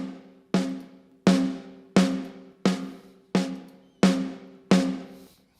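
Eight evenly spaced drum hits with lo-fi distortion and saturation, each a sharp crack with a gritty, rapidly fading tail, sounding close and punchy with no voices, from a drum mix for a cover song.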